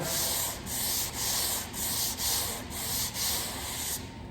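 Hand sanding a wooden table with 100-grit sandpaper, steady back-and-forth rasping strokes in a regular rhythm of about two per second, close and loud, no voices.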